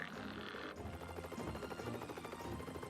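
Helicopter hovering beside a power transmission line, a steady rhythmic rotor thump with engine drone, close and constant throughout with no talking.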